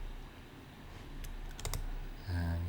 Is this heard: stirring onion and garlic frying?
no